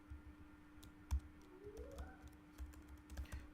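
Quiet typing on a computer keyboard, a string of soft irregular key clicks with a faint steady hum behind.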